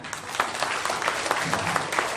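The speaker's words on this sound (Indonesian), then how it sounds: "Dan ketua peserta pengurus yang baru dilantik, diri semua, tepuk tangan." Audience applause at an inauguration ceremony for a new tourism-awareness group board in Batam, a steady roomful of clapping with scattered louder hand claps throughout.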